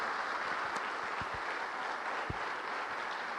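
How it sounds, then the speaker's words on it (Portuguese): A church congregation applauds in a steady, dense patter of clapping, sustained and fairly even throughout, with a few low thumps. "Você pode dar uma salva de palmas ao teu Deus?"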